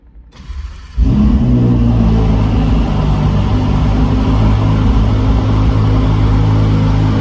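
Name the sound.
Ferrari sports car engine cold start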